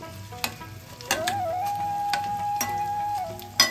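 Gond (edible gum) frying in oil for laddu gives a steady close sizzle, with a few sharp scrapes of stirring and one sustained tone running under the hiss.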